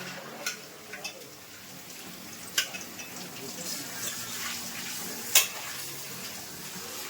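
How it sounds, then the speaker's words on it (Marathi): Running water hisses softly while dishes are washed at a home sink, with a few sharp clinks of utensils scattered across the stretch. The sound is fairly quiet and close, with no speech. "आता धुवायला घेतली भांडी"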